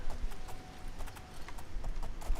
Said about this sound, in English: Got myself a fine black horse.